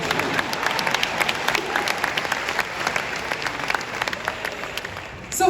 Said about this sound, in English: Another round of applause for two beautiful women sitting on the stage.